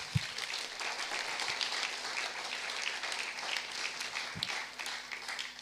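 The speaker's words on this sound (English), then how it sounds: "Also deserves quite a round of applause." Audience applause at the close of a workshop in the Netherlands, a steady sustained patter of clapping from a moderate-sized crowd, fairly distant and even throughout with no talk over it.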